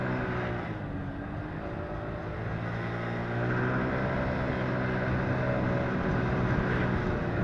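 A Kuba Blueberry 50cc motorcycle rides away with a continuous, steady engine drone mixed with wind rush, fairly loud and unbroken, with no talking.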